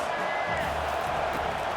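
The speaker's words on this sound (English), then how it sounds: "This crowd trying to make life miserable for this offense." Stadium crowd noise from the College Football 25 video game during a Paul Bunyan Trophy matchup: a dense, steady roar that holds at an even level throughout.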